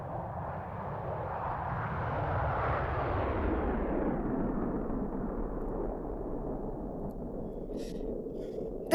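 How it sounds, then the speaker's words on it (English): A radar-equipped FA-18F Hornet jet makes a flyover, its engine roar swelling over a few seconds and then fading into a long, steady rumble as it passes and recedes. "This aircraft is a radar-equipped FA-18F Hornet aircraft, and it's going to make just one more pass."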